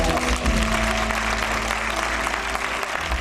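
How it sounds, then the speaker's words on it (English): A crowd at a live poetry concert gives a round of applause for fathers, clapping steadily throughout amid a low hum and faint background voices. "All the fathers, give them a nice round of applause."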